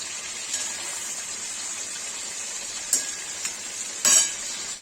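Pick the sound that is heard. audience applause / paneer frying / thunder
paneer frying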